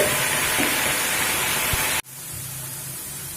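Spice paste hits hot oil in a pan with a loud, dense hiss that drops sharply partway through and settles into a softer, steady sizzle.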